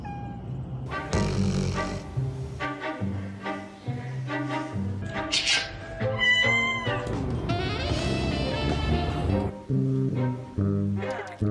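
A house cat meows repeatedly during lockdown, wanting food, its cries rising and falling over a steady background of music or other sound, fairly loud and close throughout.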